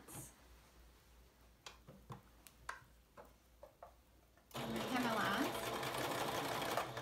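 A domestic sewing machine runs a basting stitch along a sleeve seam at the seam allowance, a loud continuous whirring stitch that starts midway after a few soft clicks and handling sounds, with a voice heard earlier.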